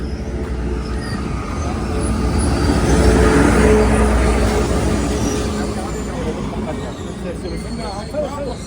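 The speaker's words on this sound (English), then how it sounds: "comes the train." A passenger train in Iraq approaches at night with a rising rumble that swells to a peak midway and then eases off, while people talk nearby.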